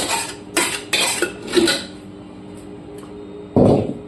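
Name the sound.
lid being placed on a pressure cooker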